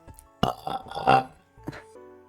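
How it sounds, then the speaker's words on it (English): A single loud, gurgling burp drawn out over about a second, followed by a shorter second belch after a brief pause, alone without talk. "Burp?"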